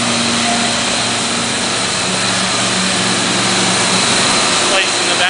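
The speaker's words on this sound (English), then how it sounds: "we'll show you the 22 horsepower vertical discharge condenser" A 22 horsepower vertical discharge condenser mounted in the back of a container, running with a loud, steady, broadband mechanical roar and hum that stays constant throughout, close by.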